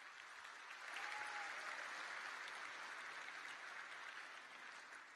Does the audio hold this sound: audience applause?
yes